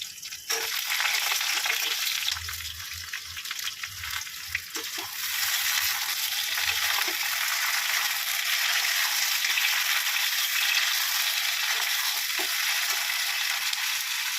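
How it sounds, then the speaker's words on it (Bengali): Eggplant slices frying in hot oil make a loud, steady hiss of crackling sizzle that runs throughout, with a few low knocks and bumps near the start. "প্রথমে আমি বেগুনগুলো ভেজে নেবো। তেলটা গরম হয়ে গেছে, বেগুনগুলো ভেজে নেবো।"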